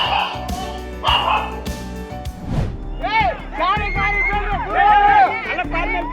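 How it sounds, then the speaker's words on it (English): A white dog barks and yips repeatedly, loud and close, with busy crowd chatter and music underneath. "Look at the white dog."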